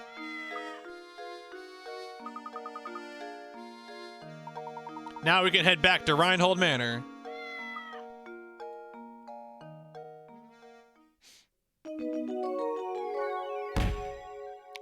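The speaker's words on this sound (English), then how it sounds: "Meow." Cartoonish cat meow in the Professor Layton video game, heard as a short burst of strained vocal tones amid melodic game music and chimes, with a person speaking near the end.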